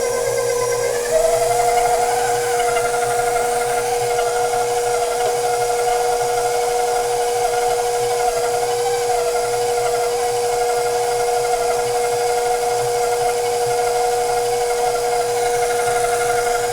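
A KitchenAid Professional 5 Plus stand mixer running steadily, a constant motor whine and hum with a faint rattle that holds at an even, close level throughout with no talking.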